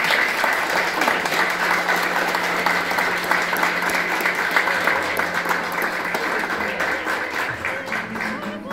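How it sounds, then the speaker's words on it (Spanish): Steady applause from a church congregation at a wedding, dense clapping sustained across the whole stretch, with faint low tones of music or voices beneath. "Den un aplauso al Señor, amén."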